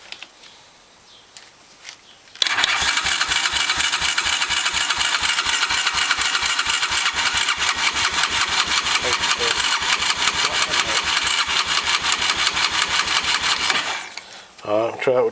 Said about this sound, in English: There we go, we got one that'll crank without the choke